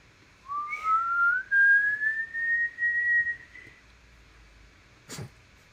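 A single long whistled note slides slowly upward and holds, clear and alone against quiet, followed by a brief noisy burst near the end.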